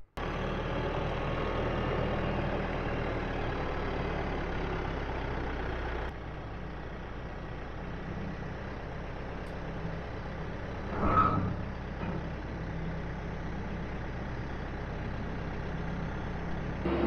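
A heavy tractor engine runs at a steady low drone throughout at a sawmill, with a brief mechanical whine and thump partway through.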